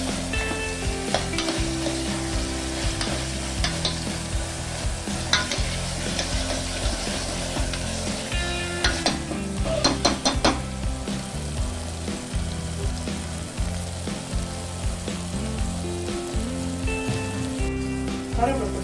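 Onion, tomato and ginger garlic paste frying in a pan, a steady close sizzle with occasional stirring scrapes, and a voice talking briefly over it.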